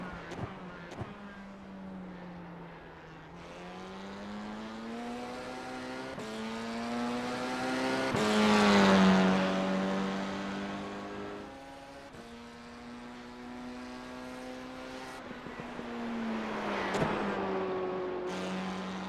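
Race car engine in a racing video game, revving steadily through a full qualifying lap, pitch rising and falling with gear changes and corners, loud and continuous with no talk.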